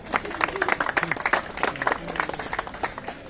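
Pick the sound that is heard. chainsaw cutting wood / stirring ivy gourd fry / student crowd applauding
student crowd applauding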